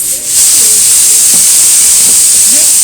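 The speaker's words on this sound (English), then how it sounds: "We have a pressure cooker on, so it is the one producing that sound" A kitchen pressure cooker lets off a steady, loud hiss of steam that runs unbroken through the whole stretch, with only faint kitchen noises underneath.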